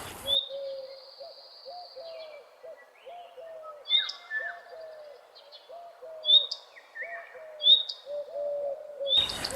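Wild birds calling at Sandstone Lake: a repeated low, cooing series runs under sharp high chirps that arrive roughly every two seconds, clear and fairly close, with no talking.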